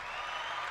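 Brief, dense clapping from a small group, steady and moderately loud, lasting under a second.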